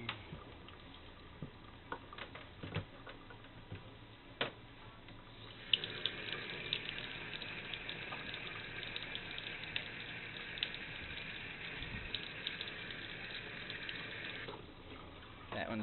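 Water pours and drains steadily from a storage container during compound service work, a continuous splashing gush that starts partway through and runs evenly before easing near the end.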